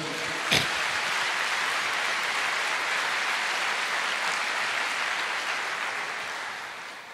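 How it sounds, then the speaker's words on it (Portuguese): A church congregation bursts into sustained applause, a dense wash of many hands clapping for several seconds with one sharp knock near the start, tapering slightly toward the end. "você pode aplaudir o Senhor?"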